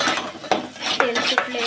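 Homemade masala is mixed in a pan, with a spoon scraping and clinking against the metal in a few short, close strokes over a low background hum.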